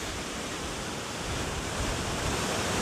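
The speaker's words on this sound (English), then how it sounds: "check out that sheer force of Swallow Falls" Swallow Falls in North Wales roars as a powerful waterfall of rushing white water, a loud, steady, broadband wash filling the whole clip with no voices.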